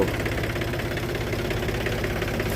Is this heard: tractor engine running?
yes